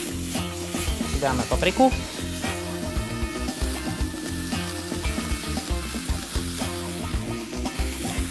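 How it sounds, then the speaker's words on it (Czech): Onion, garlic, herbs and pepper fry and sizzle loudly in a pan for a ratatouille while being stirred, with scraping and clatter under someone speaking. "Společně dám cibuli, česnek a bylinky. Teď to zamíchám."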